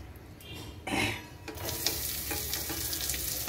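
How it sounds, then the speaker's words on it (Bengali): Onion dropped into hot oil in a pan: a quieter hiss swells into a loud, dense sizzle that then holds steady and close. "দেখুন তেলটা গরম হয়ে গেছে, পেঁয়াজ দিয়ে দাও।"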